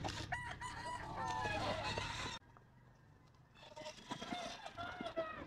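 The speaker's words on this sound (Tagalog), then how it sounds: "Maraming manok mo si sir." Roosters crow and chickens cluck at a Sunday pet market, several birds calling close by in bursts, with a short quieter gap partway through before the crowing resumes.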